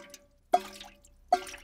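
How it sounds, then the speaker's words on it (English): Water drips from a leaking school roof in a cartoon, two crisp, well-spaced plinks ringing out clearly against near silence. "Look, it is going drippity-drip."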